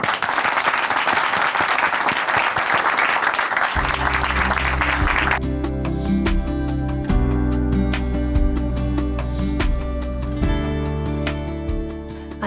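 Church audience applause welcoming a speaker, steady clapping at first, then joined and overtaken by sustained instrumental music that continues to the end.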